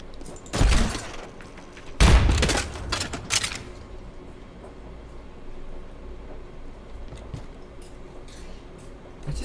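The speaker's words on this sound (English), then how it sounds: "It's this gun making that noise." Junkrat's gun fires in the video game Overwatch, with two loud, booming bursts in close succession near the start, followed by quieter scattered noise and faint clicks.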